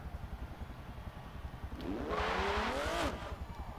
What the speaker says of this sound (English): the lap time of a Honda Odyssey around Laguna Seca